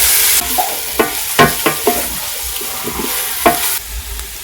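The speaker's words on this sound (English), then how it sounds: "I'll fry the onions to golden brown. I added the carrots in. I'm going to go ahead and mix this up." Onions and carrots fry in a pot in a village kitchen, a steady sizzle under repeated scraping knocks of a spoon stirring them. The sound is close, with no voices.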